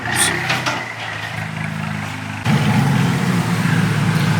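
A tuned VW MK8 GTI engine on a dyno drones steadily, then jumps abruptly louder and deeper about halfway as the revs climb, with faint voices in the background.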